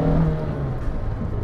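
A Peugeot 106 Rallye's engine revs steadily in the 3000–4000 rpm range. It is a loud, close, continuous drone with no talking.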